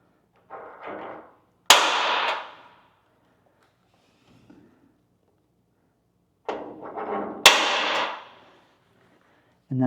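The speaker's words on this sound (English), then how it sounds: "I'm going to use my punch. I'm going to punch" Metal punch struck to knock holes in custom truck cab trim on a Chevrolet C10: two clusters of sharp metallic impacts, each a few quick taps then a loud ringing clang that decays, separated by a quiet pause.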